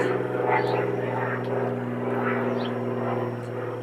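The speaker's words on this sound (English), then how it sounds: "Sorry about the airplane." A steady drone of an airplane passing overhead, loud and continuous with a low engine hum, filling the whole stretch.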